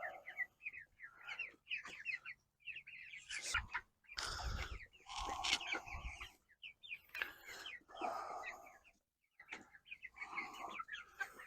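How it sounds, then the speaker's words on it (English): Young American meat bird chickens hatched on a farm, skittish in their coop, give soft scattered clucks and chirps over about eleven seconds, fairly faint and intermittent with pauses between bursts. "Here is the meat bird, or the American breast"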